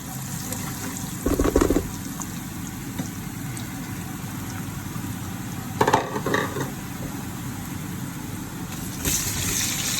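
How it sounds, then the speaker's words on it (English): Yam fries steadily in a pan, a constant crackling hiss, with a few brief clatters of stirring or utensils now and then. "We're going to let that fry for a little bit."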